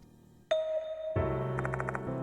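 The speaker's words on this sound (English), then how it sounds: "I heard the sound of that bell ringing" A bell rings in the video game Death Mark 2: a clear chime strikes, then a second fuller ring with a short series of rapid bright pulses, sustained and fairly loud.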